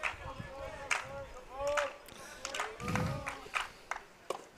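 Scattered rhythmic clapping from the crowd at a high school varsity baseball game, with voices talking over it and a noisy stadium atmosphere.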